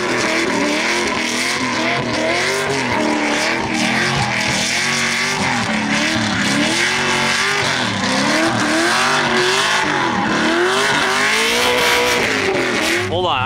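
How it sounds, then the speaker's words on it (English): A drift car does a loud burnout during a drift competition, tires squealing continuously over a hard-revving engine throughout, close and sustained. "That was a burnout, not a drift."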